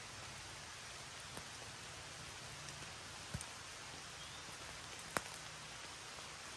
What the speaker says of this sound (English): It's actually raining pretty good.